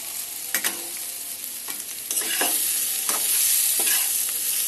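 Sea fish cooked with onion and garlic, stirred in a pan over a low flame: scraping stirring strokes over a steady close sizzle that grows slightly louder partway through, with no voices.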